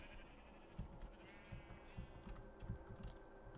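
Sheep bleat repeatedly in the Minecraft video game, several short rhythmic calls over a steady background hum, with no talking.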